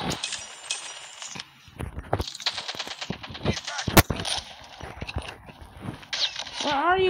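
Call of Duty game gunfire in a sniper-only match crackles in rapid bursts and sharp single shots, with one loud blast near the middle and a rising electronic whine at the end, over layered game effects.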